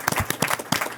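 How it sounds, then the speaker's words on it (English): Audience applause at a central bank press conference, a short burst of distinct hand claps in quick irregular rhythm, close and moderately loud. "Round of applause."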